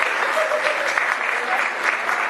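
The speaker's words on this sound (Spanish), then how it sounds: "Un aplauso para la profesora." Audience applause at a diploma ceremony, a dense steady wash of many hands clapping at close range with a faint voice cheering through it.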